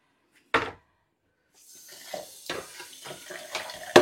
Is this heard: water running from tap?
yes